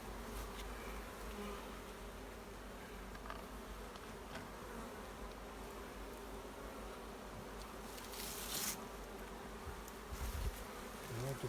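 Honey bees swarm thickly around a log hive while honeycomb is cut from it, producing a dense, steady buzzing close by throughout, with occasional louder passes near the end.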